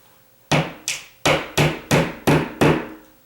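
A hammer knocks on a ceiling where a joist sits, during installation of a pancake box for a ceiling fan: seven sharp, evenly spaced solid thuds, close and loud, each decaying quickly.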